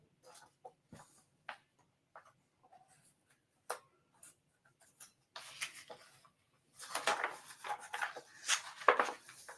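Pen on a paper calendar gives scattered faint scratches and taps at close range, then a denser run of scribbling strokes toward the end, with no speech.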